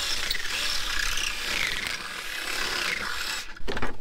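A drill bit grinds and rasps while enlarging a bolt hole in the metal of a V10 Dodge 2500 truck, a continuous harsh close-up scraping that briefly stops near the end before a few sharp knocks.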